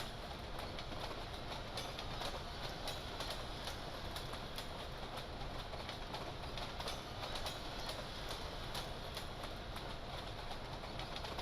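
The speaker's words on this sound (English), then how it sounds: "Is that a train ahead of us?" A Boston & Albany line train runs on the rails with a steady, broad rumbling roar and faint rhythmic clatter, heard at moderate distance without talk.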